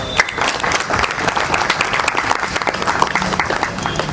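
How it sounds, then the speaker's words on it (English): Audience applause at the launch event for a women's shuttle bus service in Genome Valley, a lively round of many hands clapping close by, steady and dense throughout with a few scattered voices. "a huge round of applause for that"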